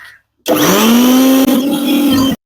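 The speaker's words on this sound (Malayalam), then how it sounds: "ഇനി നമുക്കിതൊന്ന് അടച്ചിട്ട് ഇതൊന്ന് അടിച്ചെടുക്കാം കേട്ടോ" A mixer grinder blends turmeric powder, lime juice, slaked lime and ghee, its loud, steady motor whir starting abruptly, dipping for an instant midway, then cutting off after about two seconds.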